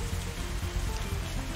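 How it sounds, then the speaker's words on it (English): Rain falls steadily outside in the Katawa Shoujo visual novel, a soft, even hiss of drops on surfaces with a faint low patter underneath, brief and continuous. "it's still raining outside when we exit the Shanghai"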